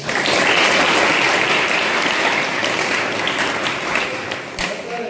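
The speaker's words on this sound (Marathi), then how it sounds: "जोरदार टाळ्या वाजवायच्या." An audience at a high school notebook-distribution event breaks into loud, sustained applause that fills the space as a dense wash of clapping, easing slightly toward the end.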